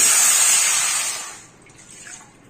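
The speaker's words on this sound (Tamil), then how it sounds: "இப்போ அதே பேனில் ஒரு கப்பு தண்ணி" A cup of water is poured into a pan for murukku dough, a bright close gushing splash that tapers off over about a second and a half.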